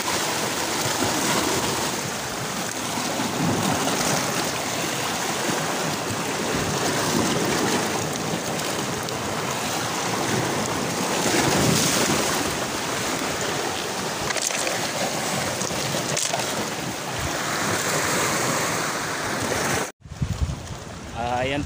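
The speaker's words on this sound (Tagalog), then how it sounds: "Malalaki, malalaki din ang alon." Large waves surge around a small fishing boat on open sea during a storm, a loud continuous broadband roar of water and wind that fills the clip, cutting off abruptly near the end.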